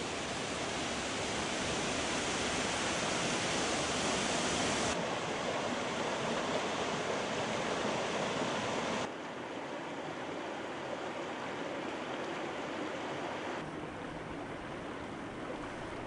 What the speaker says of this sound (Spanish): Un silencio que solo rompe el arroyo Valdorria cuando se entrega al Curueño en forma de gran